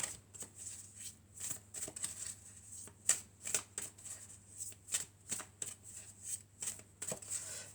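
Oracle cards from an oracle deck being shuffled by hand, a steady series of soft riffling and flicking bursts, close and quiet, with a low constant hum underneath and no talking.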